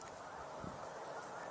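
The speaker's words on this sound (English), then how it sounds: "it sounds like a lot of geese in flight" Geese honking in flight heard outdoors on a birding tour, faint and distant calls over a constant background hiss, with no talking.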